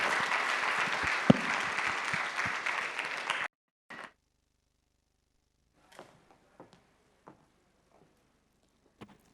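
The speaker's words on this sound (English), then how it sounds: "thank you and a round of applause for all the participants" Applause for participants at a South Asia conference, a sustained room-filling clapping that cuts off abruptly after about three and a half seconds, followed by near silence with a few scattered faint knocks and small sounds.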